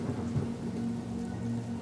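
A storm brings steady rain with a low rumble of thunder, an even wash of rainfall under a deep sustained drone, with no voices.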